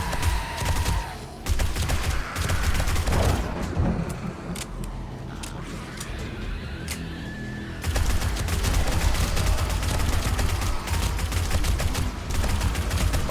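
Gunfire with armor-piercing rounds hitting zombies in the survival game 7 Days To Die, a dense, loud stretch of rapid shots and impacts that briefly drops to quieter rattles midway before the heavy barrage resumes.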